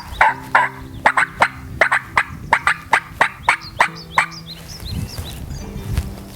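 A diaphragm turkey call mimics an excited hen, sounding a quick run of about a dozen sharp, evenly spaced yelps and cuts, loud and close, fading into a few softer clucks.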